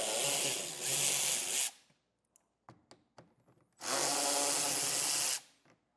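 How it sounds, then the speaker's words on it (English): Two long bursts from a power driver backing out screws with a 7mm socket on a 2024 Chevrolet Trailblazer liftgate, close and loud, separated by quiet clicks and handling noises. "we're going to take a 7mm socket, and we're going to remove the screw here and here on both sides"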